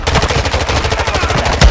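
Rapid automatic gunfire from the video game Call of Duty: Warzone 2.0, a dense, loud stream of shots in quick rhythm lasting the whole moment, with a heavier burst near the end.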